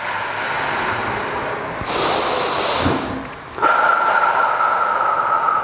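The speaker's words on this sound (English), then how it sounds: "Breathe in through your belly and inhale with your nose and exhale." Deep, forceful breathing during a home step aerobics workout: a loud, breathy inhale through the nose, then a rushing exhale, close and steady, with a faint steady tone running underneath toward the end.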